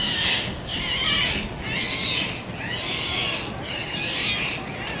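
Two dolphins at an aquarium show, Nemo and Neptune, make a series of long, pulsing squealing calls in roughly rhythmic bursts, loud and clear, as if singing a tune.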